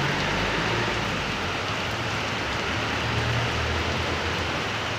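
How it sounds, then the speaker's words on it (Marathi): Steady winter rain falling outdoors in a village near Nashik, an even, dense hiss of drops holding constant throughout with no pauses or talk. "हिवाळ्यात पाऊस चालू झालेला आहे"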